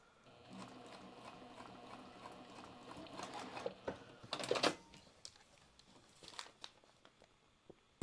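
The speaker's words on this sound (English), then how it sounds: "I am going to do a basting stitch on this before I do the final stitch" Sewing machine running a basting stitch along a quilt block, a soft steady whirring for about three seconds at moderate level, followed by a few faint clicks and handling noises near the end.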